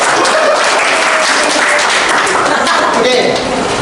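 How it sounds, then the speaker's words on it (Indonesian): A group applauds for three people at a school leadership training session, steady dense clapping for a few seconds at close range, with voices mixed in. "Tepuk tangan dulu untuk 3 orang."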